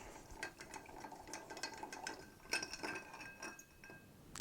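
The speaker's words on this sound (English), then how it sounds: "So we have a couple of nice cubes of ice to add to the mixing glass. Add those in, and we'll stir." Ice cubes stirred in a cocktail mixing glass with rye whiskey, a quiet run of rapid clinks and rattles against the glass, soft and close, with no talking.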